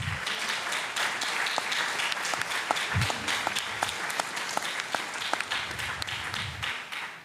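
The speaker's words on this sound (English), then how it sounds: "Let's all give the coaches here this evening a big round of applause." An evening audience applauding coaches at a recognition event, a steady wash of many hands clapping with a few sharper individual claps standing out, continuing at even volume for several seconds.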